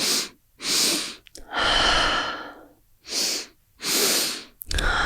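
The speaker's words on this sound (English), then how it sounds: "See if you can make the pace a little bit faster. Find that circular breaths, non-stopping." Fast, forceful circular breathing during a guided breathwork session, with loud, close inhales and exhales in a steady unbroken rhythm, about six breaths with no pause between them.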